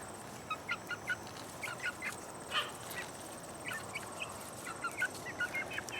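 Chicks in a garden during a garlic harvest, with repeated short high peeps and clucks scattered over a quiet outdoor background.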